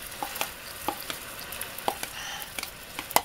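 Hot caramel syrup hisses and crackles in a pan, sharp scattered pops and spits over a soft steady sizzle, close and moderately loud with no talk.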